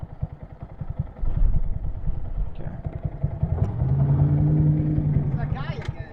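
A 2022 Honda Grom motorcycle idles with a close, rapid single-cylinder putter, and the engine note drops and strains as the clutch is let out by a learner rider, with people talking over it.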